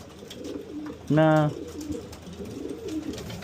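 Pigeons at a loft: a clear, close, rolling coo lasting about half a second stands out over softer background coos, while someone talks throughout.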